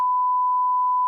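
A single steady censorship bleep, a pure electronic tone held loud and even for about a second, covering swearing in Hindi-language street talk.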